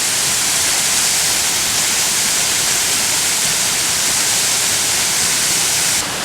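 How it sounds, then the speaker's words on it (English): Benlister Falls on Arran rushes in a loud, steady, broadband roar of falling water, close and continuous, with no voices. "I've been on both sides of this waterfall."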